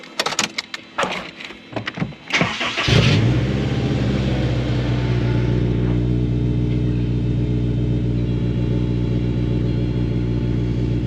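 A Honda S2000 engine with high-flow catalytic converters starts after some clunks and clicks, then settles into a loud, steady, deep rumble from the exhaust.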